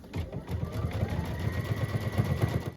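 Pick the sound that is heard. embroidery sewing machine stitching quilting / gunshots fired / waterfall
embroidery sewing machine stitching quilting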